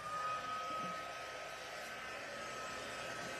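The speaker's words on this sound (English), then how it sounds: "So what you're doing is this heat tool is melting the powder." A heat embossing tool runs steadily, melting embossing powder on vellum card stock, its loud continuous fan-driven whoosh and hiss filling the whole stretch with no talking over it.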